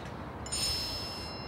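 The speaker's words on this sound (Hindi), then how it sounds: "मैसेज आया है" Phone message notification chime in an Urdu-dubbed Turkish drama, a single bright ringing tone that sounds once over a quiet room hum and then lingers briefly.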